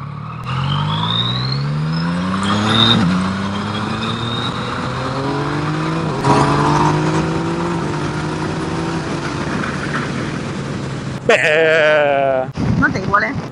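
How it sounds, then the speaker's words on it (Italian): Yamaha MT-09 SP motorcycle engine pulling through the gears on a road ride, with rising harmonic sweeps that drop at each shift, roughly four climbs in sequence, loud and near with wind rush throughout. "Senti come lineare il motore, lo senti come scorrevole?"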